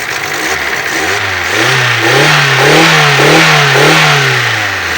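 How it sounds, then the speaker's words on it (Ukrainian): A 2008 Daewoo Lanos 1.5 engine runs close by, revving up and down in several smooth rising and falling swells over a steady rumble. "Двигун працює хорошо."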